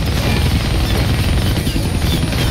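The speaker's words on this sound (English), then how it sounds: "Helicopter! Get back here!" A helicopter in the Deadpool video game thunders steadily and loudly throughout, a dense continuous rotor roar that fills the whole stretch with no pauses and no talking.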